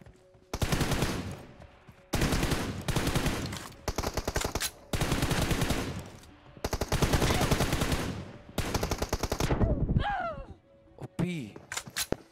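Rapid automatic gunfire in a mobile shooter game played on an iPad, loud sustained bursts of several seconds each with short gaps between, then a reload sound and a few lighter clicks near the end.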